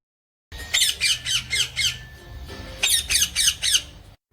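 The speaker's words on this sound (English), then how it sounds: "Parrots screech and squawk." A parrot squawks repeatedly in two bursts of rapid, harsh, rhythmic calls, loud and close, separated by a short pause.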